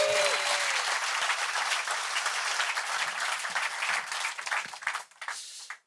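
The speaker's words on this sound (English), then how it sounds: "A massive Dalkey round of applause for Avi Shlaim, ladies and gentlemen." An audience at a book event in Dalkey gives a long, loud round of applause for a memoirist, dense clapping and crowd noise that thins out and fades at the end.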